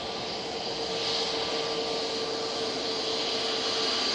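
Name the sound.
easyJet Airbus A320neo jet taxiing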